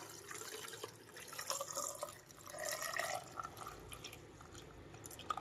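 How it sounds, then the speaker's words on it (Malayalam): Boiled water with rock salt and turmeric is poured into a container of ripe mangoes being salted, a soft trickling and dripping pour heard up close and fairly quiet, with no talking. "ഈ വെള്ളം ഞാൻ അങ്ങോട്ട് ഒഴിച്ചു കൊടുക്കുകയാണ്"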